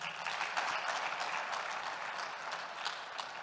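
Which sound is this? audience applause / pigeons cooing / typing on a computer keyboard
audience applause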